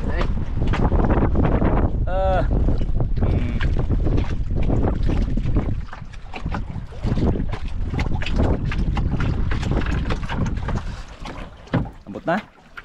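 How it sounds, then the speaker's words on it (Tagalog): Strong wind at sea sweeps over a fishing boat in a loud, steady, buffeting rush that never lets up, with boat and water noise mixed in and easing slightly near the end. "Lakas pa rin ang hangin."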